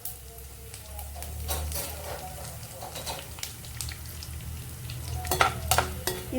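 Chana dal, cumin, mustard seeds and dried red chili pieces sizzle in hot oil for a Telugu carrot chutney tempering, a steady close crackle broken by spoon stirs and a few sharper pops near the end.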